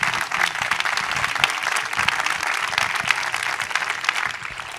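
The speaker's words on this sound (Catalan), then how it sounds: "Un aplaudiment per ella," Sustained audience applause at a political rally, dense and steady throughout, many hands clapping loudly at close range with no break.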